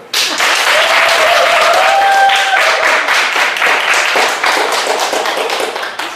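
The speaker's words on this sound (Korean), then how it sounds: "큰 박수로." An audience breaks into loud, dense applause after a speech, a sustained wall of many hands clapping that holds steady for several seconds before starting to thin toward the end.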